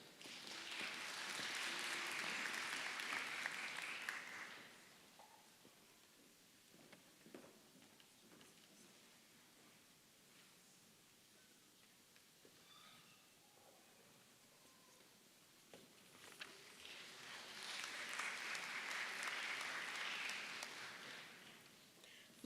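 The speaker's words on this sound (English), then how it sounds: "let us applaud the recipients of the MA, MS, and PhD degrees." Audience applause at a medical school commencement ceremony, a broad wash of clapping that rises, fades to quiet for several seconds, then swells again, heard from a distance with no speech over it.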